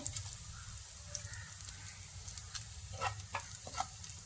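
Soft sizzling of two dried red chilies frying in hot oil with chopped shallots, with scattered crackles and a few spoon scrapes against the pan.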